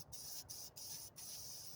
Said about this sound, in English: Make sure and spray all of your surfaces.